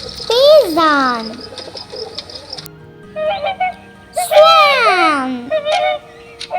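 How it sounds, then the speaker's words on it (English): Pigeon calls sound as a few clear, moderately loud rising-and-falling coos separated by short pauses, heard alone without talking. "Pigeon."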